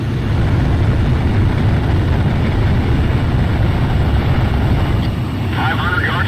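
Fighter jet engine in Ace Combat Zero, a loud steady roar closing in on an aerial refueling aircraft, dense low rumble throughout with no pauses and a faint high whine near the end.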